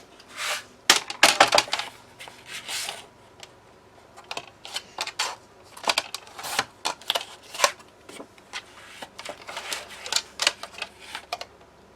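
Scissors or a trimmer snip through paper while a craft page for a keepsake book is trimmed, a series of close, crisp cutting and rustling bursts in irregular clusters across the stretch.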